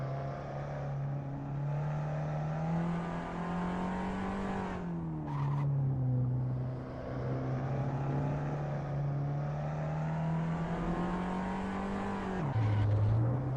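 A Saab 99 Turbo race car from a vintage rally stage at Ahvenisto, inside the Assetto Corsa racing game, drones along under steady engine load. The engine pitch rises and falls briefly between gear changes, loud and close throughout.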